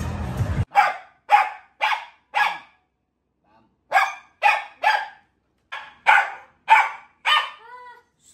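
A dog barks in short bursts, about eleven sharp barks in two clusters separated by a pause, fairly close and loud, with a few softer whimpering yips at the end.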